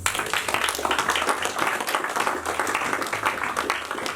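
Church congregation clapping and acclaiming during a service, dense rhythmic hand claps in a steady pulse with a bed of voices calling out beneath, loud and continuous throughout.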